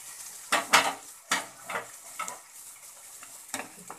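A spoon scrapes and knocks against a pan while stirring jackfruit curry with coriander powder and spices, a few sharp clanks followed by softer, irregular scraping and faint sizzle.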